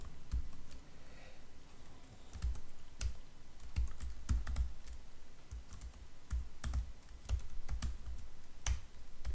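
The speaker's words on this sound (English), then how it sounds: "If I could type here." Someone types on a computer keyboard, a close run of uneven key clicks and taps in quick irregular bursts with short pauses, alone with no talking.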